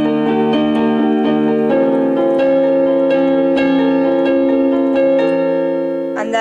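A sequence of chords from a song played on piano, struck repeatedly in a steady pulse with sustained ringing notes, loud and close, no voices.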